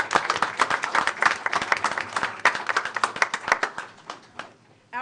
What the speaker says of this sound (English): Another round of Good job, applause.